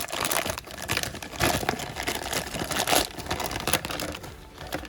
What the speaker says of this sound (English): Now let's get all of the other parts out of the packaging.